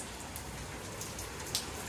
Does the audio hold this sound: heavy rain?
yes